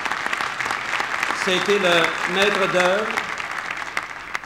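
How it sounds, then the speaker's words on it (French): Audience applause at the inauguration ceremony of Mirabel airport, honouring Benoît Baribeault, a steady broad wash of clapping throughout with a voice speaking over it. "je demanderais qu'on l'applaudisse"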